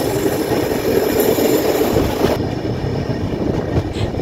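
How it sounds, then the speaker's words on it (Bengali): An SMVP Bengaluru Duranta Express train, 29 coaches long, runs at about 130 km/h, giving a steady loud rumbling roar with a brief hiss and a slight drop in level partway through, and no talking. "আমাদের এসএমভিপি দুরন্ত প্রায় 130 কিলোমিটারে বেগে ছুটে চলেছে"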